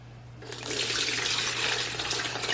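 Beef bone broth is strained and poured into a Cambro container, starting with quiet background hum and then turning into a steady, full rush of pouring liquid.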